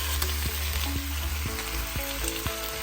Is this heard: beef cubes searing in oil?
yes